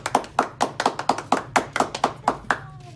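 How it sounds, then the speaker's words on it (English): A small audience at a school board of education meeting claps for a student of the month, around a dozen distinct, evenly spaced claps, close and crisp, with faint voices near the end. "a big round of applause for our January Student of the Month"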